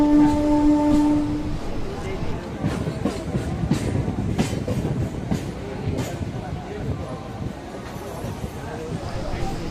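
A Howrah to Bardhaman local train rolls along steadily with continuous rumble and rhythmic clickety-clack of wheels over rail joints, heard from on board, with a voice talking over it.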